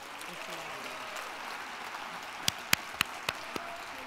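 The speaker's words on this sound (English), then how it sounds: "Let's give them one last round of applause" Applause at the 2014 Arizona Governor's Arts Awards ceremony for the nominees: a soft, distant bed of clapping with a handful of sharper, nearer claps standing out toward the end.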